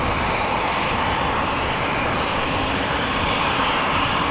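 A jet airliner on flight 190 to Belgrade approaches at Amsterdam Schiphol, its loud engine roar filling the scene with a broad, steady rush that stays strong and close from start to finish.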